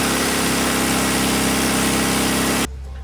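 A Classic Mini with a 1380 engine drones loudly and steadily, held at 2,000 RPM under load, then the note drops off abruptly near the end to a lower hum.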